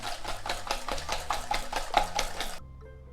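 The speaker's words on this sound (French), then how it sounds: "Et je vais fouetter." A whisk beats galette des rois frangipane batter in a bowl with rapid, even strokes, about four per second, close and clattery, before stopping abruptly.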